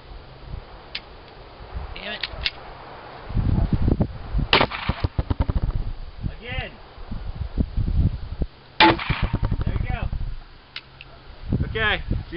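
Gunshots fired at bulletproof glass during field testing, a series of sharp, close cracks in irregular bursts with gaps between them, and people talking in the pauses.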